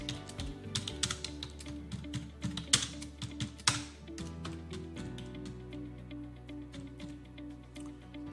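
Keystrokes on a computer keyboard as an ad name is entered, close and fairly soft, an irregular run of taps and clicks that thins out toward the end.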